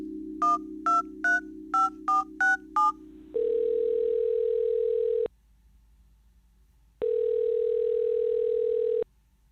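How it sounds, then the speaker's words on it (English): A steady telephone dial tone hums while seven quick keypad beeps are pressed, then two long ringback tones sound with a pause between them, clean and close. "Jittery from exertion, Sam picks up his phone."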